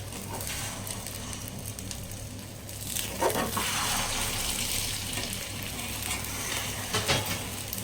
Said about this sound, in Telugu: ఎగ్ని ఇలాగా ఆయిల్ వేసుకొని చక్కగా ఫ్రై చేసుకోవాలన్నమాట